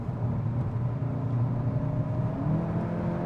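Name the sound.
VW Golf 8 GTI Clubsport four-cylinder engine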